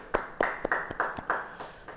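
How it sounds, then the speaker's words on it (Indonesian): A church congregation claps together in a short, uneven burst of about eight sharp claps, close and moderately loud, in a reverberant room. "Yang percaya beri tepuk tangan bagi dia."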